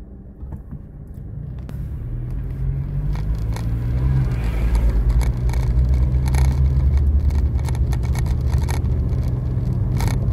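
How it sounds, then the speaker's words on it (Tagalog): Road traffic with cars passing close by, a loud continuous engine rumble and tyre noise building over the first few seconds and holding steady, with scrapes and crackles mixed in and no talking. "Ayan ang traffic."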